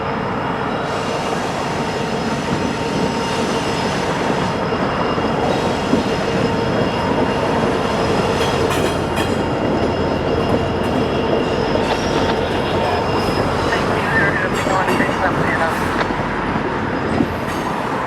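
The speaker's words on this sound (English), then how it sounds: "I-69 departs East Conway with a train for Landers Yard in Chicago" A freight train rolls past on a Norfolk Southern line near East Conway, a steady loud rumble of wagons on rails with faint wheel squeal and clicks throughout.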